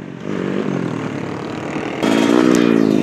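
A Yamaha motorcycle at a Southern Thailand flat-track street event revs hard and close for a wheelie with a rider and passenger aboard, a loud buzzing two-stroke-style whine holding steady, then jumping higher in pitch and volume.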